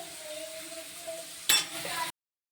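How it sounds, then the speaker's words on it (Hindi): Lentils (dal) are tempered in a pan, a quiet kitchen sizzle with a sudden louder burst of hissing and clinking near the end before it cuts off. "मैं अपनी दाल छौंक लेती हूँ"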